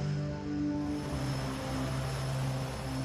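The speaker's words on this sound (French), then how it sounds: "Les twin otter sont les nouveaux autobus du transport aérien interrégional." A Twin Otter propeller plane flies by in a steady, loud, droning engine hum that holds even throughout with no breaks.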